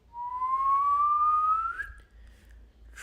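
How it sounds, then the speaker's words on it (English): A single mouth whistle that rises slowly and smoothly in pitch for nearly two seconds, close and clear, then cuts off, leaving quiet breathy background. "Try to whistle it."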